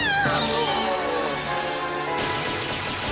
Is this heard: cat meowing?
yes